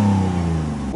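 A car engine runs close by with a strong, steady harmonic hum that dips slightly in pitch over about a second, like a brief rev settling back before the car pulls away.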